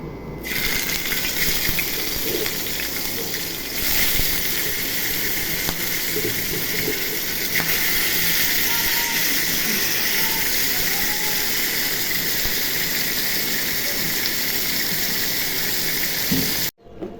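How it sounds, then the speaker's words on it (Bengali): Shing fish frying in hot oil make a loud, continuous sizzle with a hissing, bubbling texture. A sharp clatter near the start joins it, the sizzle holds steady for the whole stretch, and there is no talking. "তেল গরম হয়ে গেছে এখন মাছগুলো ভেজে নিব"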